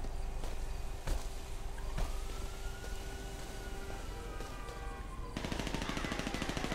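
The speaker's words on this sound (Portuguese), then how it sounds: "Tiro, tiro." Gunfire in GTA 5 roleplay during a favela shootout, dense rapid bursts sounding continuously across the clip amid a rising siren-like wail, with a harsher, louder barrage near the end.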